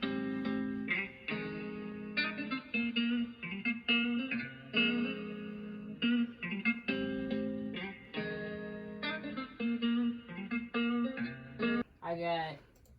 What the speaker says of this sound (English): So that's the guitar chops from arcade.